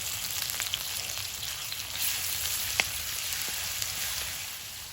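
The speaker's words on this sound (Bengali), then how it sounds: "এখানে ফোড়ন হিসাবে দিচ্ছি গোটা গরম মশলা আর তেজপাতা রসুন বাটা আদা কোরা" Whole garam masala, bay leaves, garlic paste and grated ginger sizzle in hot oil with a steady, close crackle and occasional sharper pops, heard alone without talk.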